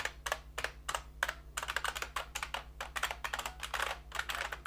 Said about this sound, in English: Type something.